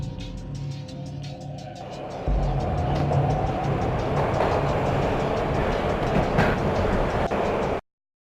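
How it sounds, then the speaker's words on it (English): A train ride in the Max Payne video game on a freezing night brings a steady rumble of rail cars. Rhythmic clickety-clack beats run over it and the noise grows heavier partway through before cutting off abruptly. "This was my second train ride of the night."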